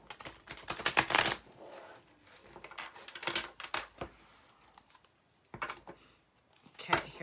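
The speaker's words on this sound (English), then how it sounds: "Okay, shuffling." A deck of cards is shuffled in several rapid riffling bursts separated by pauses, close and crisp, with a person talking in between.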